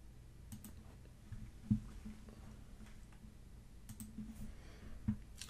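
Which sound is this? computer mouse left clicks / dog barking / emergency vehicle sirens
computer mouse left clicks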